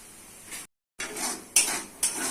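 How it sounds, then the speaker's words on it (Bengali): Ground turmeric, chili, cumin, coriander and salt stir-fried with onions in a pan, giving short bursts of sizzling and spoon scraping broken by a brief silent gap, no voices. "মশলা ভালো করে কষে নিতে হবে।"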